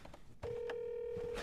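Telephone ringback tone on an unanswered call, a single sustained electronic tone holding steadily for about a second after a brief click, heard close with faint background noise and no talking.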